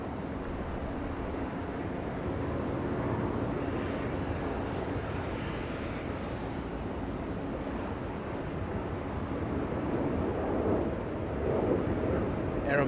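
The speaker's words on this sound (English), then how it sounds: "That's a Dreamliner 787-8 using 25 right for departure." An Aeromexico Boeing 787-8 Dreamliner departing from runway 25 right at Los Angeles International Airport gives off a low, distant rumble, a steady broadband roar that swells slightly toward the end without a sharp peak.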